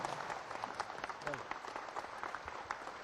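Applause from an audience at a Korean-language religious address, a brief burst of clapping heard faintly at a distance beneath a voice speaking over it.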